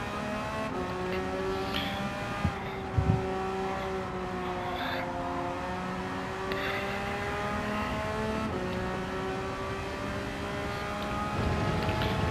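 A race car engine screams at high RPM in a racing video game, its sustained harmonic whine holding near-constant pitch with small dips at gear changes, loud and continuous with brief clunks early on.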